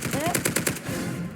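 A rapid burst of automatic gunfire in a video game shooter, with several sharp, evenly spaced shots cracking close and loud before trailing off, and a faint voice in the background.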